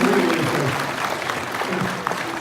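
An audience at a Gen Con 2019 presentation applauds, a steady wash of clapping at moderate volume that holds for a couple of seconds with some crowd murmur.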